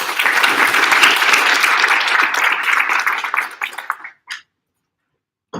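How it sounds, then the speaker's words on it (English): Sustained applause from an audience at an orientation event, a dense wash of clapping that thins out and stops abruptly, leaving a couple of isolated claps before silence. "If you will, another round of applause for those folks."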